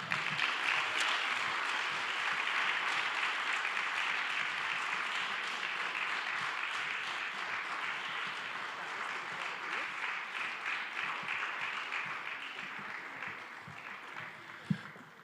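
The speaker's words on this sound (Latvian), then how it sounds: "Vētrainiem aplausiem skanot." Steady audience applause at a volunteer awards ceremony, dense clapping sustained throughout at moderate distance, with no voices standing out.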